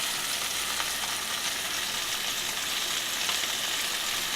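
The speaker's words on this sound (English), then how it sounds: "So we're going to go ahead and stir that in really well." A pan of heavy cream sauce being stirred on the stove, with a steady, close sizzle and soft scraping that holds constant for the whole stretch, no voices.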